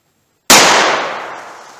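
A single sharp gunshot from a .38 Special +P revolver with a 4-inch barrel cracks out after a moment of silence, loud and close, then rings and decays over about a second.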